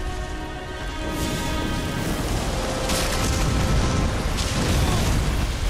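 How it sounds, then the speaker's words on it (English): A broad, roaring explosion from the Scadutree Avatar boss in Elden Ring's Shadow of the Erdtree, a sustained wide rumble swelling over several seconds with crackling, rain-like debris texture and no talk. "the explosion itself is wide, but also those beams shoot out"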